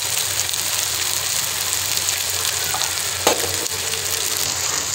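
Cloves, cumin seeds and bay leaves sizzle in hot oil in an Instant Pot for mutton paya, a steady close crackling hiss with a small clink partway through and no talk.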